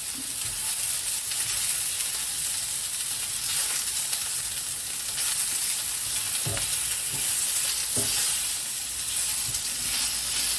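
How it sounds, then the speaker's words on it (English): Beef sears in a pan over maximum heat, a loud, steady sizzle and hiss throughout, with a few soft clicks and knocks of the pan underneath. "So there's the beef going in. It's on a maximum heat."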